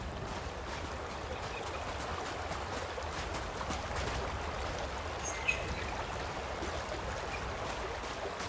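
Ocean waves at a beach in Starfield wash in a continuous, even rush of surf, steady and moderately loud, with a faint chirp near the middle.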